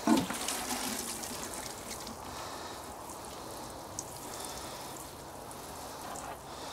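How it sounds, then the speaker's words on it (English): Water splashes and patters steadily onto lettuce plants in a garden bed, a close continuous shower-like hiss after a brief louder start. "I'll just give them a water and they'll be away."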